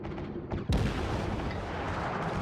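Naval gunfire in World of Warships as a Japanese Kuma cruiser trades shots with a battleship: a sharp, loud cannon boom followed by a long, rumbling tail and ongoing battle noise.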